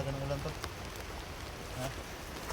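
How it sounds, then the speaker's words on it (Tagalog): Heavy rain hisses steadily in the background while a few faint, brief tonal sounds and murmurs come and go over it. "Ang lakas talaga ng ulan to."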